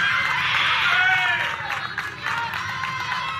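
Little League baseball crowd at a Central Region tournament game, Indiana versus Michigan, a bright, excited mass of cheering and shouting voices swelling and dipping throughout, fairly close and loud, with no distinct speech.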